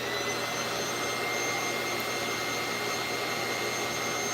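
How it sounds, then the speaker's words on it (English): A small handheld vacuum runs continuously at a steady, loud, broadband whine and rush, close by, with no pauses or speech during a Dyson repair and cleaning session. "Let me use a little vacuum."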